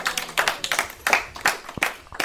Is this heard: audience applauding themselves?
yes